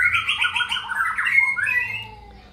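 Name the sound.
white-rumped shama calling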